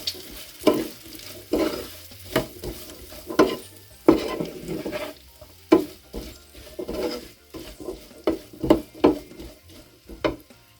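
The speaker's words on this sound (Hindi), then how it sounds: "इसको चलाएंगे हम" Spices and salt for a mirch tufani dish are stirred in a frying pan, producing repeated close scraping strokes of a spatula over a soft sizzle at an uneven rhythm, with no speech.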